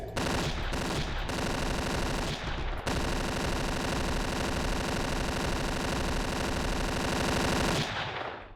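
An assault rifle in the 2009 FPS Creator game Decay fires long, loud, continuous automatic bursts, with a few brief breaks early on before a sustained stream that fades at the end.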